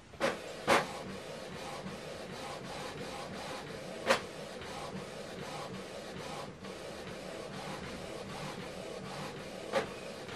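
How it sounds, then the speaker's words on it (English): A Canon PIXMA TS7450 wireless printer runs its alignment page, giving a steady mechanical whir with a few sharp clicks and clacks spaced through the run, close by and with no voices. "Right now it's printing the alignment page."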